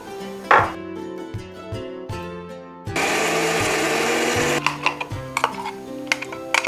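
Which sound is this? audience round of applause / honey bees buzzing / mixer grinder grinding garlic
mixer grinder grinding garlic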